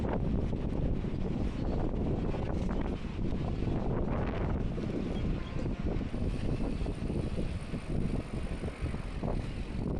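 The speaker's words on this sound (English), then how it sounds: "we should have some shelter from the wind around this corner here" Wind blowing on a seafront, a loud, constant rumbling buffet across the microphone with gusting swells and no talk.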